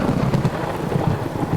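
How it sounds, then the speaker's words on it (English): Thunder rumbles low and heavy amid steady rain, a loud continuous roll rather than a sharp single crack, with no voices. "she heard a clap of thunder"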